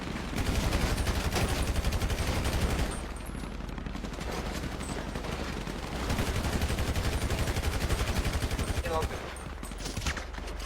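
Sustained rapid gunfire from a shooting video game, bursts of automatic weapon fire rattling continuously through a heated team match, with players' voices talking over the shots.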